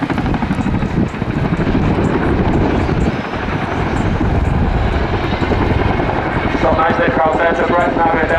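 A Chinook helicopter flies a display at an air show, its heavy rotor thump and engine roar loud and continuous throughout, with wind buffeting the microphone and a voice talking over the noise.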